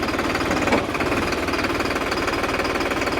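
A New Holland 3630 Special Edition tractor's diesel engine runs close by, a loud, steady, rapid knocking throb that barely varies for over three seconds, with no talk.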